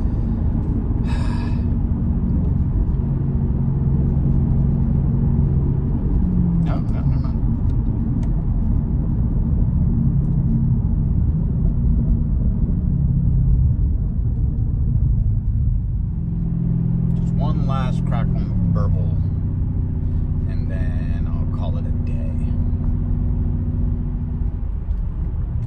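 A Mercedes SL550 R231 with its exhaust cutouts open cruises in a high gear, a constant low rumbling drone heard from inside the car, with someone talking over it now and then.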